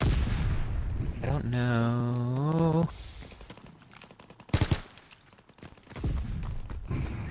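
Rapid gunfire bursts from a Prop Hunt match crack through the middle of the clip, loud and close, with players talking over the shooting before and after.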